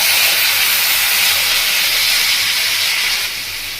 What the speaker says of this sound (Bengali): এবার আমি সর্ষে বাটাটা দিয়ে দিচ্ছি।